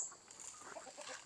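Chickens on a small poultry farm with chicks and around fifteen hens, giving soft, close clucking and cheeping calls in a steady scatter through the moment.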